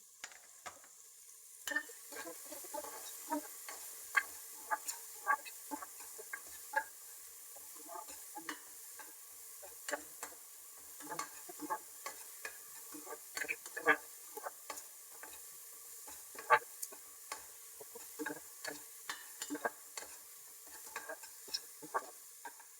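Chopped onion frying in a pan while being stirred, a soft continuous sizzle broken by frequent quick scraping and tapping strokes of the spoon, fairly quiet and close, with no talking.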